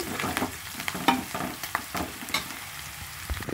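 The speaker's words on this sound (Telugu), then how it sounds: "ఇదంతా ఫ్రై చేసేస్తున్నాను" Ginger garlic paste and spices frying for a fish curry with onion, green chilli and curry leaves, a steady close sizzle broken by scraping stir strokes, no voices.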